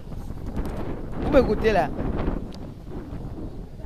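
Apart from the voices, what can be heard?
wind blowing outdoors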